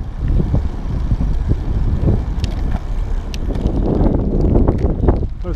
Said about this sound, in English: Looks like we're going to be going into the wind.